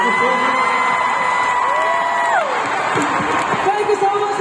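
A large concert crowd at a show cheers, whoops and applauds loudly and continuously, with a sustained sung or shouted tone fading out over the roar.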